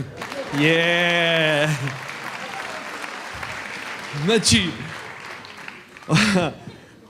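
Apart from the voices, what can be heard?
audience applause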